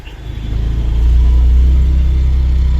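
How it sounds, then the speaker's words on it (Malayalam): An ATV engine rumbles low and heavy, rising as it approaches and then holding a loud, close, steady drone at a tourist spot near the Udaipur ropeway. "ഈ ഒരു ATV ഓടിച്ചു പോകുന്നു ഇവിടെ കൂടെ."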